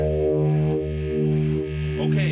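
A sustained guitar chord rings through a DIY Electro Vibe effects pedal, swelling and pulsing in a steady throbbing wobble. It is close and loud, heard alone for a couple of seconds.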